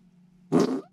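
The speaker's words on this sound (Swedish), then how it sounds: "Är det en pruttkudde?" A whoopee cushion lets out one short, loud raspy fart sound, rising sharply over a low steady hum and cutting off after about half a second.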